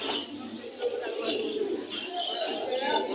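Pigeons at a busy pigeon market in Bangladesh coo and vibrate their throats close by, a continuous layered cooing with faint chirps and background voices.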